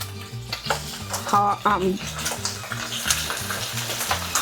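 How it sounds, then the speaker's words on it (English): Meat sizzling in a tablespoon of oil in a pan for Mexican ribs, a steady close crackle with stirring clinks and pan scrapes over it. "look how the meat is frying."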